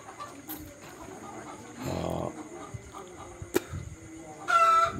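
Fayoumi laying hens on a poultry farm cluck and call at a moderate distance, with a rooster crowing near the end and other brief farm noises between.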